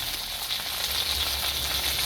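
Steady close sizzle of onion, ginger and chilli pastes hitting fried onions in hot oil, a dense crackling hiss throughout with no talking.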